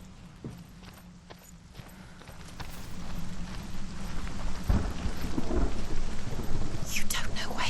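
Steady rain hisses in the video game Hellblade: Senua's Sacrifice, growing louder over several seconds, with low rumbles and scattered thuds beneath the dense wash.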